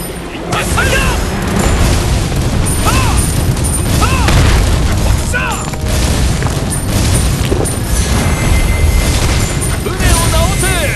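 Naval cannon fire in a battle from the Imjin War era, heard as heavy repeated booms within a dense, loud battle din, with shouted voices and yelled commands breaking through.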